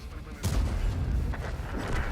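Heavy tank cannon blasts boom in a tank battle game with the Progetto 65 and a Chieftain, over a constant engine rumble, a strong shot early and a fainter one later.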